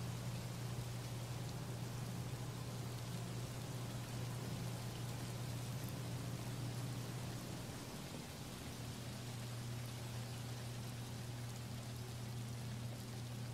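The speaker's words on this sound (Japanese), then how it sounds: "雨、止まないですね" Steady rain falling as a faint, even hiss, continuous and unchanging, with a low hum underneath and no voices.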